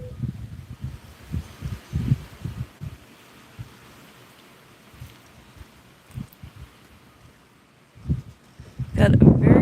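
Outdoor breeze under a thinly clouded sky buffets the microphone in low rumbling gusts, fading to a lull midway before a loud, broad rush of wind closes the stretch.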